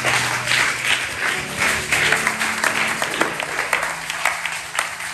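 A church congregation breaks into sustained applause, a dense wash of clapping that fades toward the end with scattered claps and a few faint voices.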